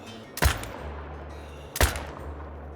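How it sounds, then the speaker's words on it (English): Two loud, sharp rifle shots of .308 rounds, about a second and a half apart, ring out during an elk hunt in theHunter: Call of the Wild, each one a sudden crack followed by a short echoing tail. "We'll throw some 308 rounds at him."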